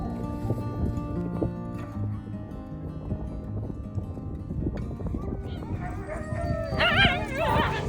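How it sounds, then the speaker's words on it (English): Sled dog puppies in Greenland yip and howl in a busy chorus, a jumble of high whines and barks that grows louder toward the end, with people talking underneath. "Surrounded by sled dog puppies."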